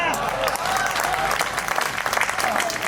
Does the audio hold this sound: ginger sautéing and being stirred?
no